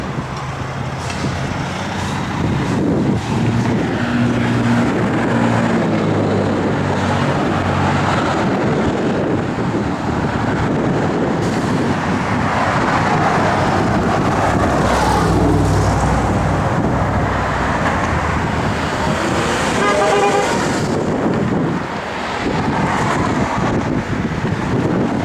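A 1965 Ford Falcon Sprint with shotgun exhaust tips idles and rumbles steadily outdoors, its low exhaust note partly buried under heavy wind buffeting the microphone.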